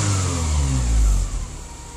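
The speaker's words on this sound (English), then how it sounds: "Excuse the rough start, but notice the smooth idle." A car engine freshly converted to fuel injection settles into a steady idle just after starting, a loud close rumble that swells briefly, then eases to an even, smooth hum.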